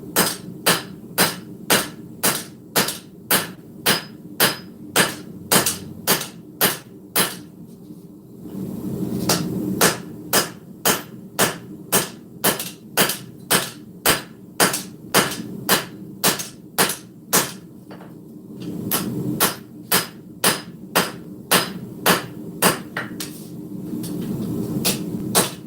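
A hammer forges a steel cleaver blade with a straight peen, striking in fast, evenly spaced metallic blows. The ringing strikes come in long runs broken by two brief pauses filled with a low rumble.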